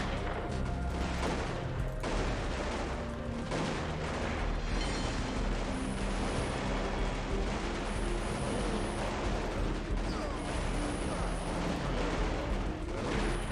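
Rumbling blasts and crackling debris from an outlaws' saloon being blown apart in the game Outlaws 3, a loud continuous barrage of booms with sharp bursts layered over a steady low roar.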